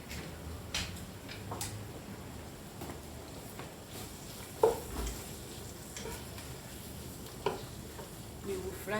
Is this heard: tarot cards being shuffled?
no